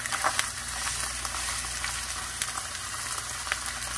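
Tiger prawns sear belly side up in a hot pan, giving a steady, close, loud sizzle with crackling spits and pops throughout and no talking.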